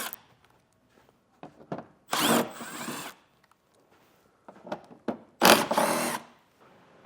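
A power tool removes a row of 10mm bolts from a plastic panel on a 2017 Toyota Sienna, with several short close whirring bursts, two longer loud runs, and light clicks and handling between them.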